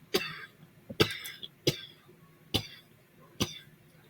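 A woman coughs five times in sharp, separate bursts roughly a second apart, close and fairly loud, with a brief throat-clearing sound between them and no talk.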